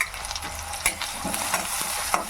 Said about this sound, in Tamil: இப்போ வெங்காயம் அப்புறம் பச்சை மிளகாய் இதை சேர்த்து நல்லா வதக்கிக்கலாம்